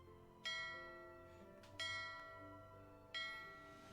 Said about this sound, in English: Ship bell.